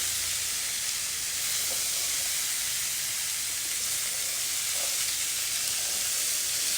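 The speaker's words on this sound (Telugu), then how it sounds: "ఇందులో వేగాలి నూనెలో మంచిగా వేగితే" Food fries in hot oil with a steady, even hiss and sizzle that holds at one level throughout, broken only by a couple of faint pops.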